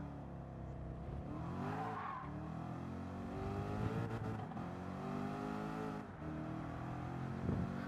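Chevrolet Corvette C7 race car in Gran Turismo 7 at the Red Bull Ring, a continuous engine whine that climbs and drops through gear changes, fairly quiet, with brief tyre squeal.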